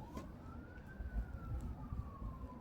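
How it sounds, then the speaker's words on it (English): A wailing emergency siren with a slowly rising and falling tone sounds faint and distant over low, rumbling background noise, with no talking. "you're hearing a low vibration, a low volume, I should say a low frequency sirens, as well as the high frequency sirens"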